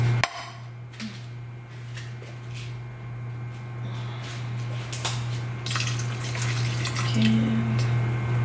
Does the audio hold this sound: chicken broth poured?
yes